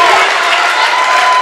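Crowd cheering and applauding at a high school basketball game between Gilbert and North Polk, a steady, dense roar filling the gym with no breaks.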